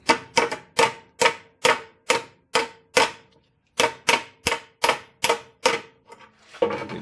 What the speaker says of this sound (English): So I'll just sort of hammer and dolly it back into shape.